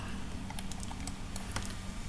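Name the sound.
pressing delete key on a computer keyboard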